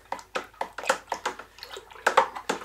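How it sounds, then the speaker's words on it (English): Cider with added yeast nutrient is stirred in a vessel, giving a quick rhythmic series of about ten sloshing, splashy strokes, close and moderately quiet. "Give that a good stir around,"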